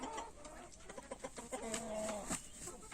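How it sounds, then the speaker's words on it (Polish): Chickens cluck and roosters call softly in a short, faint stretch of choppy bird sounds in a yard holding four roosters among the hens. "tu mam cztery koguty cały czas"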